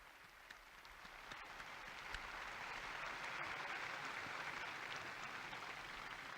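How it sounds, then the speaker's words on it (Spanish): A large crowd at a papal Angelus applauding a newly beatified person, a dense sustained clapping that swells over the first few seconds and holds steady, distant and broad. "Un aplauso para el nuevo beato."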